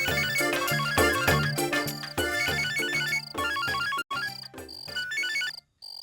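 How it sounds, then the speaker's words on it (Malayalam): A phone ringtone plays at night in a Malayalam comedy serial, a loud repeating electronic melody in rhythmic bursts with brief gaps, cutting off near the end. "ഫോൺ അടിക്കുന്നു"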